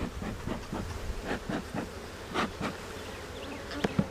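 Honey bees crowd a beehive that has moved up into its upper boxes during a nectar flow, giving a steady close buzzing with repeated louder swells as individual bees pass near, with no talking.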